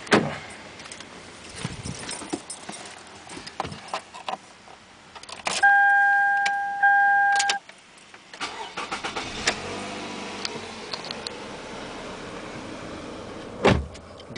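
A 2008 Toyota Camry 2.4 V engine cranks and starts, then settles into a running idle, with a chime tone, clicks and door or window noises around it.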